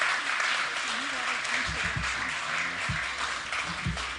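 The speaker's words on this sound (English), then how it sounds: "Let's give the WIN program another round of applause." An audience applauds at a public-private partnership panel during the Denver Union Station grand opening, a dense wash of clapping with a voice speaking over it partway through.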